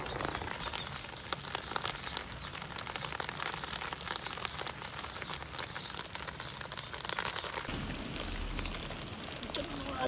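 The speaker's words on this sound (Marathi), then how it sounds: "इथे छत्री घेऊन आली आहे मी, एवढा पाऊस आहे" Rain falling in a vegetable garden during a red radish and fenugreek harvest, a faint continuous patter on leaves and an umbrella, steady throughout with a slight shift near the end.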